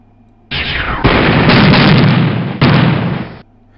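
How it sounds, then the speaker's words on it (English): Gunfire and explosions from the 1998 video game Junior Spacewar sound as a loud, harsh burst of noise lasting about three seconds, with a second blast kicking in partway through. "Just fire and explosions."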